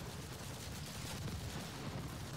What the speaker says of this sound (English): Some precise machine gun work right there.